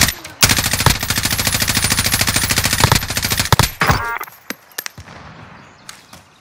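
A video game gun fires a long, fast, steady automatic burst of loud close shots for several seconds, then a few scattered single shots follow in quieter surroundings.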